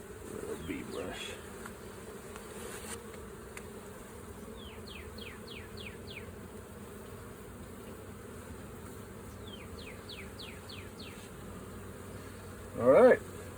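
Honeybees buzz steadily around an open hive during an inspection, a soft continuous hum throughout with a brief louder burst near the end.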